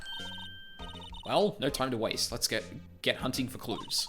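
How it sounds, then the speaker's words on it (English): A telephone rings briefly in Phoenix Wright: Ace Attorney, a short electronic ringtone tone heard at the start before a voice begins talking over it. "That is a phone."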